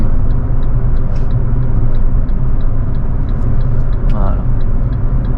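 A car accelerating on the road during a driving lesson, a steady loud engine rumble that holds throughout with faint ticking, no speech heard over it.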